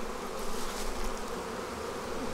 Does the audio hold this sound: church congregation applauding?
no